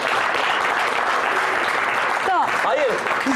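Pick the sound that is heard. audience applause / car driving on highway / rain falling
audience applause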